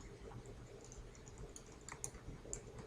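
Quiet computer keyboard typing, a faint, irregular patter of key clicks up close, ending with a sharper keystroke.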